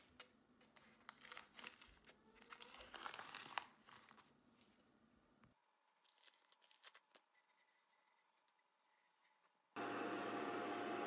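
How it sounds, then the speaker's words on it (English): Abrasive rubbing and rasping as the inside of a turned maple platter is sanded up to 400 grit, busy and scratchy at first, then a quieter stretch with a faint hum, ending in a loud, steady rush of noise. "Here I'm finishing the inside, or touching up the inside really, sanding it up to 400 grit"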